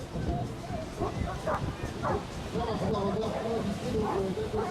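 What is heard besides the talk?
Newfoundland dog barking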